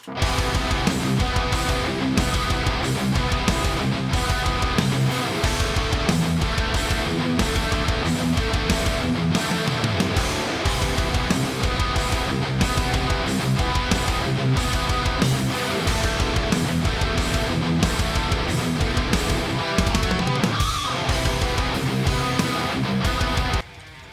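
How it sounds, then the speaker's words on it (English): Dense, wide wall of quad-tracked distorted electric guitars, two per side with the same amp settings, chugging a driving riff, thick and layered, loud and continuous throughout. "doing the quad tracking with the two separate guitars on each side but the same amp settings"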